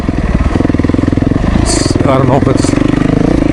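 Motorcycle engine with a throttle problem, idling too fast, running steadily with a fast, even pulse throughout while someone talks over it.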